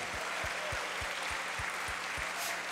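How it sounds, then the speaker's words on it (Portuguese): A church congregation applauds during a Sunday service, a dense wash of clapping with a steady pulse of rhythmic beats running through it, loud and even from start to finish. "Vamos dar um aplauso."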